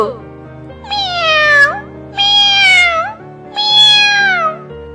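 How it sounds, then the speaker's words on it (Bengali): Three drawn-out, loud cat meows in even succession, each rising then falling in pitch, close by against a quiet background. "বিড়ালের ডাক শুনতে পাচ্ছি"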